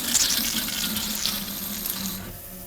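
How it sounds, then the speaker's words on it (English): Coolant gushing steadily out of the bleed point of a BMW E46 cooling system during bleeding, a continuous close splashing, running flow with no talk over it. "Now we have air-free coolant coming out"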